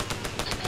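Rapid gunfire from the military shooter game Arma 3: a quick burst of four or five closely spaced shots over a steady noisy background, with no talk.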